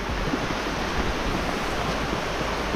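Deep floodwater in a river rushes past in a steady, dense broadband roar, continuous and fairly close with no voices over it.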